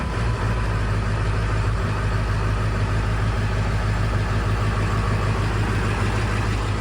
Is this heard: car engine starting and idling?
yes